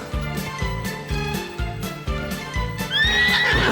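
A horse gallops in a quick, even clip-clop of hooves, then gives a loud, close whinny near the end as the hoofbeats continue.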